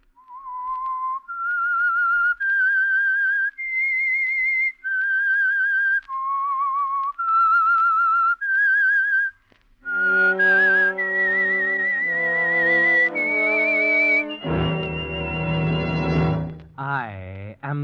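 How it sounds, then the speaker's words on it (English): Solo whistled theme tune of The Whistler radio program, a long melodic line of sustained clear notes stepping up and down, close and loud, with a richer, buzzier tonal passage toward the end and no talk. "That whistle is your signal for the Signal Oil Program"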